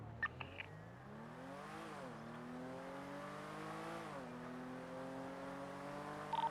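Car accelerating in the GTA NoPixel video game, a steady engine tone climbing in pitch through two gear changes, moderately quiet and continuous, with brief clicks at the start and end.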